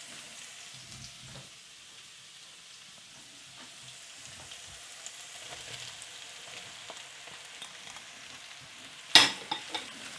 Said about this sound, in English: now we'll add the mushrooms